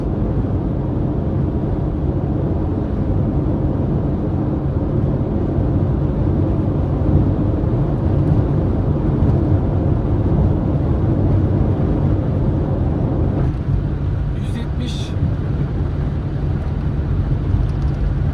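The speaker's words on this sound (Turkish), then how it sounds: "rüzgarlı bir gündeyiz ama bir rüzgar sesi geliyor" Steady wind noise rushing past a 2006 Toyota Corolla 1.6 with a four-speed automatic, cruising on the highway at about 160 km/h on a windy day, a constant low broadband roar with little change.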